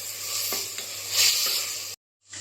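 Chopped onion, green chili, garlic and ginger sautéing in a pan, a close bright sizzle that swells briefly in the middle, with a couple of soft stirring taps, then a short cutout.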